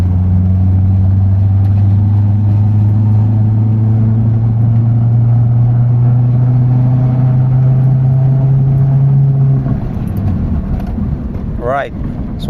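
A Mitsubishi Lancer Gallant engine, repaired after misfiring and stalling from two years of sitting unused, hums loud and close with a steady low drone that rises in pitch over about ten seconds before dropping away, with a voice talking over it near the end.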